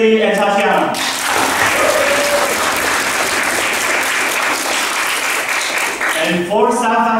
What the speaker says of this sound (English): let's give a good round of applause for featured debaters